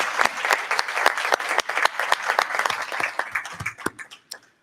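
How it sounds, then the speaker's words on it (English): Audience applause at a forum on LGBTQ+ activism, a burst of many hands clapping that thins out and fades to a few scattered claps at the end. "Please have a round of applause for Lynn Greer"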